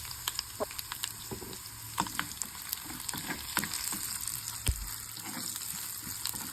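Ingredients frying in a pan until brown while cooking a coconut chutney and buttermilk curry, a steady close sizzle with scattered pops and crackles and occasional stirring scrapes, no talking.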